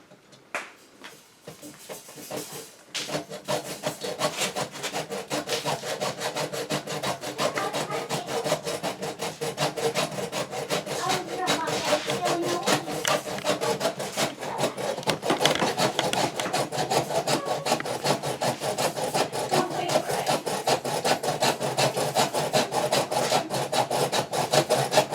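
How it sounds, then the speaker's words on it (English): A 100 amp service wire is cut to length with a steady, close rasping saw stroke that starts after a few quiet seconds and continues unbroken for over twenty seconds, with no talking. "I'll just measure this wire and cut it the same length"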